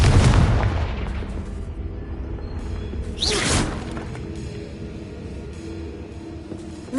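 A Confringo spell explosion in a Hogwarts video game gives a loud booming blast at the start that rumbles and decays, then a sharp whooshing burst midway, followed by a lingering low tail.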